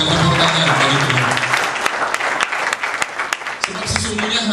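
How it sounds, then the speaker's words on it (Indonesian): Congregation clapping at an Easter church service, a loud continuous mass of applause that gradually thins into scattered individual claps, with faint voices underneath. "Kita berikan tepuk tangan bagi Tuhan."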